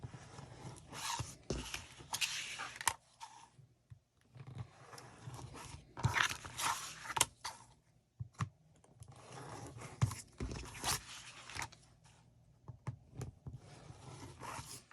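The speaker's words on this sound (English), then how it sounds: "use your rotary cutter to cut that out" Rotary cutter slicing through fabric for a cloth face mask template, close scraping rolls and rasps coming in short bursts with brief pauses and handling clatter between.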